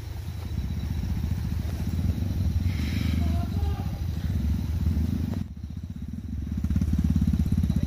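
Stock, unmodified motorcycle engine labouring loudly and continuously up a steep forest trail in the jungle, a steady close low drone with brief rises and a short dip midway.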